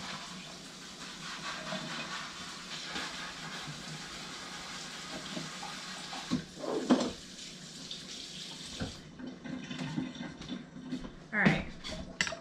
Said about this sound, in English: Now I gotta rinse it in cold water.